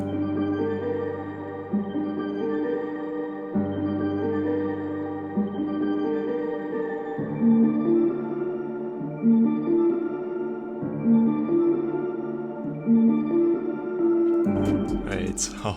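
Several piano lines play together, a low repeating bass figure under chords and a higher melody, steady and full, ending with a short burst of noise.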